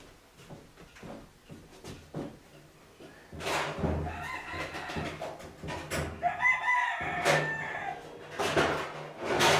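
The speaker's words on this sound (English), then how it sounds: "You can hear the roosters crowing in the background." Several roosters crow repeatedly, some near and some farther off, with clucking and small knocks around them.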